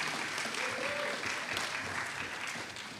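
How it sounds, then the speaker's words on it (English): An audience at a county State of the County address breaks into applause, steady clapping with a slight cheer that tapers off toward the end of three seconds. "And that person who started off by cheering was Kathleen Connor"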